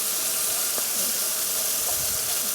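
A portable AMZCHEF range hood fan runs on its second speed setting above capelin frying at a Newfoundland cabin, giving a steady, even broadband whoosh and hiss with faint low cooking sizzle underneath.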